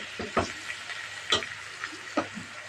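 Tomatoes and peppers frying with garlic in a pan for moussaka, giving a steady low sizzle with a few sharp stirring scrapes and clicks at close range.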